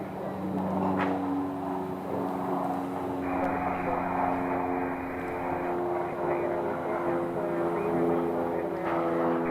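A propeller aircraft drones steadily as it arrives at an airport, its engine hum moderately near and continuous with a rising tonal layer partway through, while people talk faintly.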